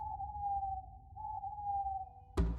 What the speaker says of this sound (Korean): 늦은 밤 가만히 부엉이 울음소리를 듣고 있으면